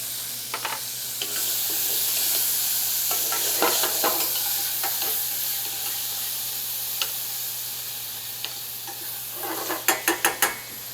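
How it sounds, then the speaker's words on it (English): Onion, celery, carrots, leeks and garlic sauté in butter in a sauce pot, a soft continuous sizzle broken by spoon scrapes and stirs, ending in a quick run of sharp metallic taps. "Whenever we start sauteing those vegetables"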